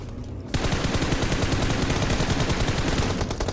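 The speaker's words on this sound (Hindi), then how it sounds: "मैं छत पे जाता हूँ इन पे फायर करने" Gunfire from a rooftop in the BGMI mobile battle royale game: after a brief quiet start comes a loud, continuous rapid-fire automatic burst of close shots in a fast steady rhythm with no talking.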